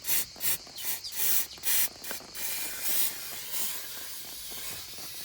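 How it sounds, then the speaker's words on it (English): Brake cleaner sprays from an aerosol can during an oil change on a Land Rover Defender LT230 transfer case: several short close hissing bursts, then one long steady spray. "Brake cleaner, best stuff on the planet. It just evaporates everything."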